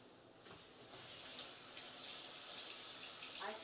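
A mango washed by hand under a running kitchen tap, a steady close rush of water with shifting splashes as the fruit moves through the stream.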